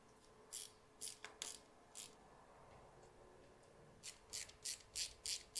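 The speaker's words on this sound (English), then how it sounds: "here I will put two bolts" Bolts being driven in to mount a rear camera on a Can-Am side-by-side, heard as short bursts of metallic ratcheting clicks in separate groups with a pause in the middle, fairly close and quiet.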